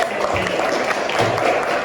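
An audience at a teachers' appreciation event claps together briefly, a short burst of loud group clapping with some voices mixed in, lasting under two seconds.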